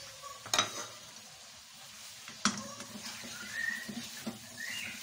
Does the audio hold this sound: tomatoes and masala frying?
yes